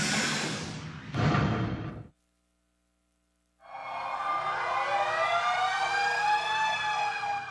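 Civil defense sirens wail across Mexico City during an earthquake drill commemorating the 1985 quake; a rising tone cuts off, then after a pause another siren swells back loud and sustained.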